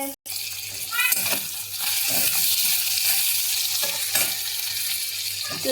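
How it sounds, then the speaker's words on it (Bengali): Sliced okra (ladies' finger) frying in a hot pan gives a steady, close sizzle throughout, with brief stirring scrapes and a short dropout near the start. "লেডিস ফিঙ্গার, মানে ভেন্ডি ভাজা করব। এইভাবে ভাজা করব"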